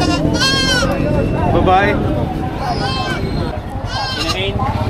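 Several goats bleat at a livestock market, wavering cries that come and go over a few seconds, with people talking and crowd chatter underneath.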